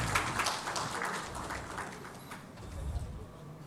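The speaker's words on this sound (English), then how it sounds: "A big round of applause." Audience applause at a project management symposium, a steady dense patter of many hands clapping throughout, moderately loud and fairly close.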